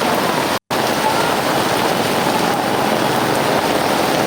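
Heavy rain pours down steadily over a flooded road underbridge, a dense, loud wash of noise with a brief dropout near the start.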